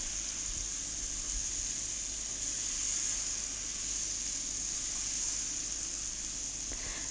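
Chicken pieces are slowly sautéed in oil without water, giving a steady, even sizzling hiss throughout with no voices.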